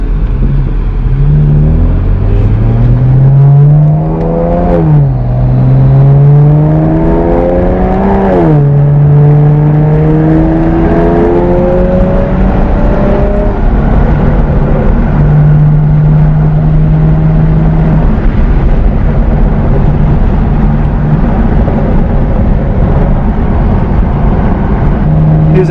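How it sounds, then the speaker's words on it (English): A BMW 335i with a custom exhaust and downpipes drones deep and loud, engine pitch sweeping up through revs and dropping sharply on repeated downshifts, then settling into a steady, throaty cruise. "Here's a nice downshift for y'all."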